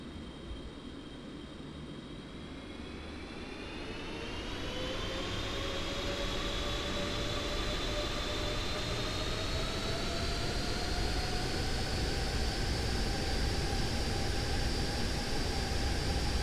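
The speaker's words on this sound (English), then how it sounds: "Okay, both engines are up and running." Aircraft engines running steadily in the Aerofly FS 4 flight simulator: a constant loud whine and roar that rises in pitch and volume partway through, then holds as a sustained drone.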